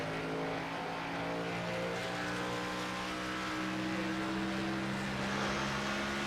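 Race car engines droning steadily at Phoenix Raceway during NSRLA National Series warm-ups for the Desert 140, a continuous loud hum with no clear pass-bys.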